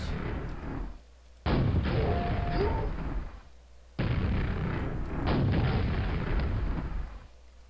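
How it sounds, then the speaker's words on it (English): Rocket explosions in the video game Engineering Mania, two heavy booming blasts in quick succession, each a loud rumbling burst that decays before the next one hits. "I may as well just use rockets."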